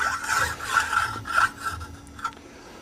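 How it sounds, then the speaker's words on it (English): A hand metal-cutting file rasps across the surfaces of a machine part, about six short rhythmic strokes, close and fairly loud, with no talk. "use just a normal metal cutting file and lightly file each one of these surfaces"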